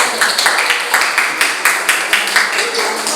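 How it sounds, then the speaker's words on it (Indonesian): A class claps for a student group that has just earned top marks, a quick run of several rapid, fairly close handclaps that fades after about three seconds. "Kasih tepuk tangan dulu."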